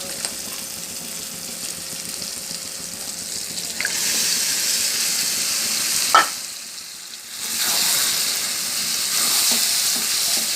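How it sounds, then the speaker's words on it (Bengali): Mutton coated in turmeric and oil frying in a hot pan gives a steady, close hiss of sizzling with occasional stirring clatters and brief pauses, loud and continuous, with no voices. "এবার এতে হলুদ আর তেল মাখানো মাটনটা দিয়ে দেবো"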